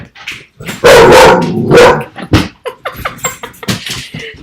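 A large dog barks at another dog outdoors, a few loud close barks bunched near the start followed by softer yips and whimpers, with no talking.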